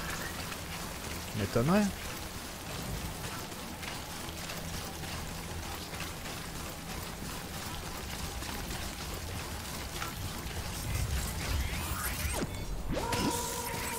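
Steady rainfall in the video game Death Stranding, a continuous hiss of drops pattering on surfaces, with a brief mechanical sweep early on and a short spoken line in French over it.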